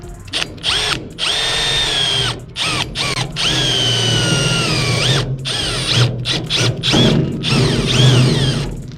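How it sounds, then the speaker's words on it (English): Power drill boring holes through a Toyota Land Cruiser's steel hood to bolt on hood vents, a loud close whine rising and stopping in repeated bursts with short pauses between. "So now we're just gonna drill holes in because it's a bolt on."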